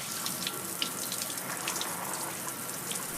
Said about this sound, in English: Everybody that comes in takes a shower.